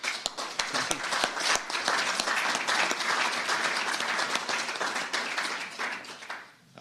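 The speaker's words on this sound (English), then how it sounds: "He deserves a round of applause." Sustained applause from an audience at a state budget proposal event held by a governor, dense steady clapping close by for several seconds before thinning out at the end.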